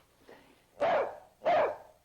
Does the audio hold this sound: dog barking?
yes